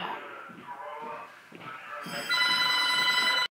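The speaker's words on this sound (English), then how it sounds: "Sorry for all the phone calls." A telephone bell rings loudly and steadily for over a second, cutting in after a stretch of a person talking through an algebra lesson.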